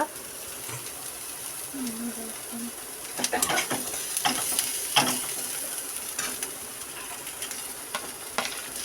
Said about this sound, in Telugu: బొంబాయి చట్నీకి ఉల్లిపాయలు అవి వేపుకుంటున్నాం